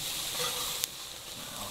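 Burger patties sizzle over an open charcoal barbecue grill, a faint, steady hiss of frying meat with one brief sharp crackle midway.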